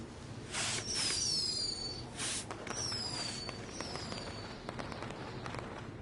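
Fireworks in the WWE 2K20 video game: several whistling rockets streak up and burst in sharp cracks, a few loud pops early then scattered softer crackles fading out.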